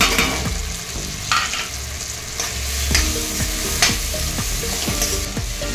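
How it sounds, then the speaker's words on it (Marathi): Coriander, ginger and garlic sautéed in fried tomatoes with cooked coconut, a loud continuous sizzle broken by regular scraping strokes of a spoon against the pan, close up and without speech. "तळलेल्या टोमॅटोमध्ये मी कोथिंबीर, आले आणि लसूण हे देखील मी परतून घेणार आहे"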